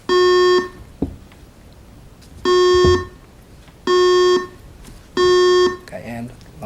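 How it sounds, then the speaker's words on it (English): Quiz bowl buzzers sounding during a buzzer check at a 2008 Lone Oak vs Hickman County semifinal match: four loud, identical electronic tones, each about half a second long, spaced at roughly even intervals, with brief faint speech between them. "We're going to do a quick buzzer check and begin the second half,"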